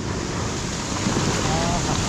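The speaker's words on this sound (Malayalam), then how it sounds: "നല്ല തിര വരുന്നുണ്ട്" Steady rushing surf noise fills the whole stretch, broad and continuous like waves breaking on Butterfly Beach, Goa, with wind buffeting the microphone.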